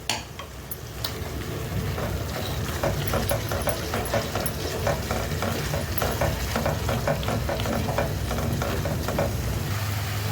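Ground coconut paste sizzles in hot oil in a pan of chicken masala while being stirred, a close, continuous frying crackle punctuated by scraping and clinks of the spoon, with no voices.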